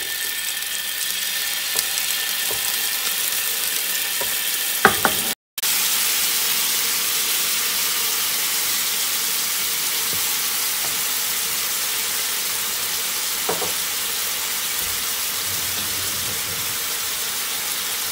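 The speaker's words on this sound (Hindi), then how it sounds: "ये सारा चिकन हम लोगों ने डाल दिया है अब हम लोग इसको फ्राई करेंगे" Chicken pieces frying in two tablespoons of cooking oil in a pan for a Mexican fajita recipe, giving a loud, steady, broadband sizzle that stays close. A short cut breaks it partway through.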